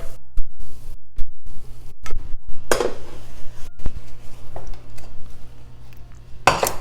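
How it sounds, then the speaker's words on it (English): Browned food being moved from a pot into a bowl, with sharp metal clanks and scrapes of a utensil against cookware, loud and close, in irregular knocks with quiet gaps between. "so I'm going to just transfer it to a bowl"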